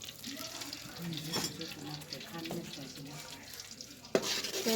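Ladoo crumbs tumble into hot ghee and fry with a steady, soft sizzle and light stirring, a voice murmuring briefly over it and a sharper clatter near the end.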